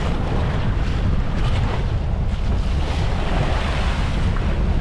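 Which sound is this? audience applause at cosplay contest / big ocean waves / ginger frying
big ocean waves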